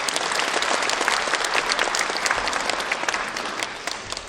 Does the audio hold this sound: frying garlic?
no